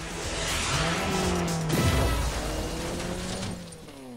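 Arcade car racing in the Rocket Cars iOS game: loud roaring engines with rising and falling pitch, tire squeals and a skid in the middle, continuous and chaotic without any voices.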